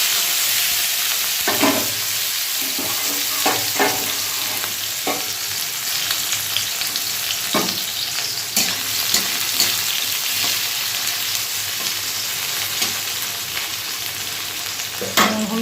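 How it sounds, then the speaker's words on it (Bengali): Chopped onion fries in hot oil in a wok, giving a steady sizzle broken by the scrape and clatter of a spatula stirring every second or two. The cooking sounds stay close and clear throughout with no talking. "কড়াই তেল গরম হয়ে গেছে, পেঁয়াজ কুচিয়ে রেখেছি, পেঁয়াজটা দিয়ে দেবো"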